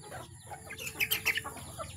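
Domestic chickens being fed cluck and squawk in a loose cluster of short calls, with a louder burst in the middle, close by over a low constant background hum.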